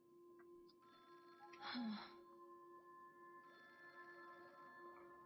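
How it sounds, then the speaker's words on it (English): A phone rings in Honkai: Star Rail, a soft repeating electronic tone heard faintly over steady game ambience, with a brief louder burst of sound partway through. "Yeah, phone call again."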